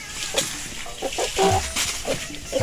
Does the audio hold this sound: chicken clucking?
yes